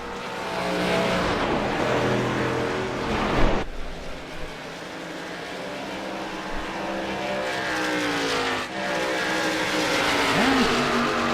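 Race cars drone around a track at a broadcast event, engines whining loudly as they pass one after another, pitch shifting as each car goes by with an announcer talking over it.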